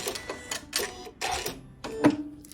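A sewing machine stitches a fused fabric applique heart onto a quilt in short bursts of rapid mechanical clatter, starting and stopping several times at close range with no talk.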